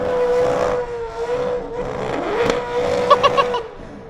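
A Gen 3 Supercar with a Coyote V8 spins donuts on a dirt speedway, its engine holding a loud, continuous high-revving wail that rises and falls with throttle, with short sharp bursts near the end.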